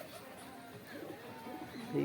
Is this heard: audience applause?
no